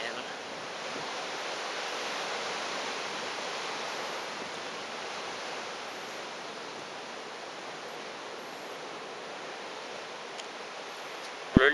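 Steady broadband rush of water pouring down at a waterfall in Okinawa, constant and close, with a brief knock at the very end.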